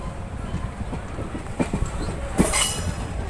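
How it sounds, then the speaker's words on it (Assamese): At Sivasagar, the Nagaland Express pulls away with a close, continuous low rumble of rolling cars, punctuated by a few brief metallic clanks and a sharper burst of hiss toward the end. "শিৱসাগৰ পৰা এতিয়া বৰ্তমান ট্ৰেইন ওলাই গৈছেহি"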